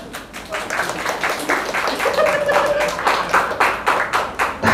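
An audience claps in uneven bursts at an Indonesian comedy talk show, the clapping close and lively over a murmur of crowd voices.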